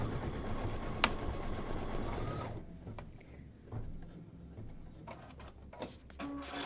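Close sewing machine stitching a folding stitch on a fabric drawstring bag, a steady mechanical whir for about two and a half seconds, then stopping into quieter handling clicks and fabric rustle.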